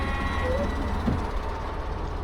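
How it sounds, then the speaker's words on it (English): Russian-built Class 416 diesel train riding in Hungary, a steady loud rumble and rattle of the carriage with a brief higher tone over the running noise. "The train is noisy and rattles left and right"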